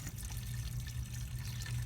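Windshield washer fluid pours into a car's reservoir, a steady liquid hiss and trickle with a low rumble underneath, continuous and close.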